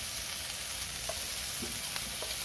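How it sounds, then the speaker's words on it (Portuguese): Bacon frying in a very hot pan with no oil makes a dense, steady sizzle with small pops scattered through it, close and even from start to finish. "Com a frigideira bem quente eu vou largar o bacon. Já deu aquele barulhinho gostoso."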